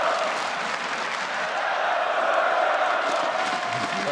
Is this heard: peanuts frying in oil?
no